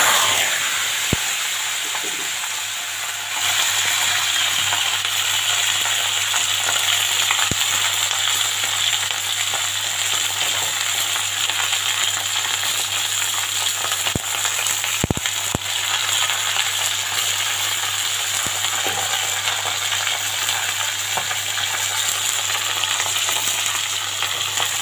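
Cut okra frying in oil in a kadai gives a steady, close sizzle and hiss that runs unbroken throughout, with a low hum underneath and a few sharp clicks of a utensil.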